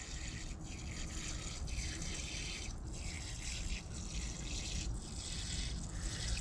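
Tepid water that has stood in a container for about a month is poured out in a steady, quiet splashing stream with gurgling surges, continuing without speech.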